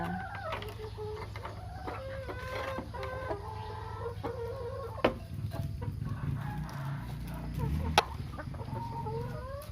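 Hens cluck in short, repeated bursts at morning feeding, some overlapping, with a steady low hum of farmyard noise beneath and a couple of sharp knocks.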